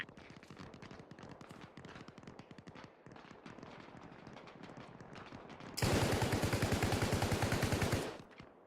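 Rapid automatic gunfire in the video game Arma Reforger, dense bursts of rattling shots that swell into a louder, continuous close-range volley before cutting off near the end.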